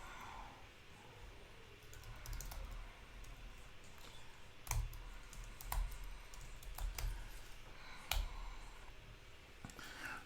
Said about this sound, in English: I'm gonna type in ifconfig first.